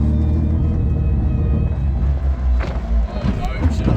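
A Hayabusa-engined Toyota Corolla accelerates briefly in first gear with a low, loud engine rumble and a few thumps. Voices talk over it.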